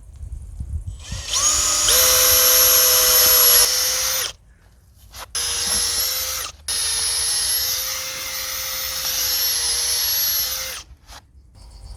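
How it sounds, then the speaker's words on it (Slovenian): Power drill boring three holes at a slight outward angle into wood for the legs of a wild bee hotel, loud whining bursts of about two to four seconds each with brief pauses between them, close to the mic. "Zvrtal bom 3 luknje za palice, takole rahlo pod kotom navzven, da bo bolj stabilno potem stalo."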